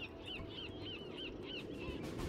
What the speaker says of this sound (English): Listen to those birds. Sounds like you're by the seaside.